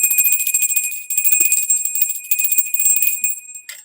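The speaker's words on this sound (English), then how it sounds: "we're going to ring the bell" A small hand bell rung to cleanse a room gives a sustained, bright, shimmering ring that fades slowly, with faint clinks and rustles beneath before it cuts off.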